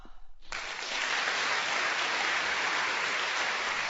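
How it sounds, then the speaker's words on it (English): In a full-cast audio play, a staged audience bursts into applause as the curtain falls, after a brief quiet moment the clapping swells into a dense, even wash that continues steadily to the end. "amid applause."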